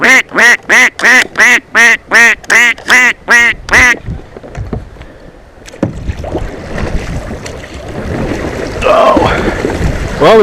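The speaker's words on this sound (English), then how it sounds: "Oh, it's a black duck." A black duck quacks on an Appalachian river while a kayak drifts nearby. About nine loud, evenly spaced quacks come close together, then give way to water sloshing and wind noise.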